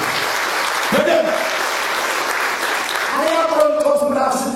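A congregation at a church sermon breaks into loud, continuous applause, with voices calling out over the clapping throughout.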